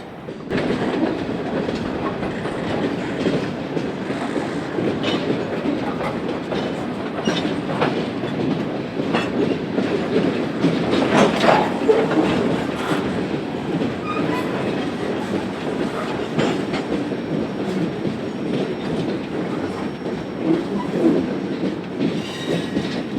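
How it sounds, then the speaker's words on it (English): A Norfolk Southern freight train rolls through a rail yard with a continuous rumble and clickety-clack of wheels over rail joints, and faint squeals now and then, steady and moderately close throughout. "B09's outbound train is visible just left of the center of the frame"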